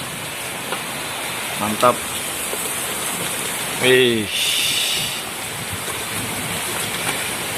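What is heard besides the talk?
rain falling while cooking nasi liwet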